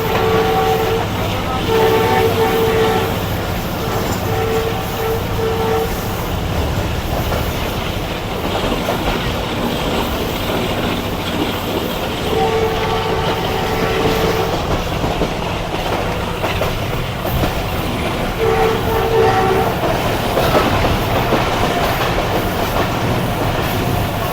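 The Shalimar Express rumbles along close behind the locomotive, a loud continuous roar of rolling wheels and rail noise with recurring horn-like tones sounding at intervals throughout.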